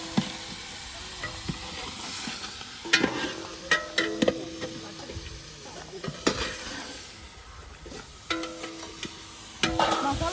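Chicken curry with coriander sizzles in a pan while it is stirred, soft frying hiss broken by repeated clinks and scrapes of the spoon against the metal, close up and without talk.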